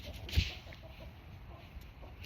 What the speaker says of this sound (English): The roosters.